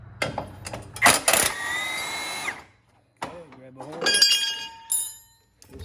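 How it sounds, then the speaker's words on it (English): An impact gun drives an 18mm bolt on the front axle of a John Deere 100 series lawn tractor, giving a loud rattling whir of about a second and a half. Shorter mechanical bursts and clinks follow. "And I'll use my impact gun here."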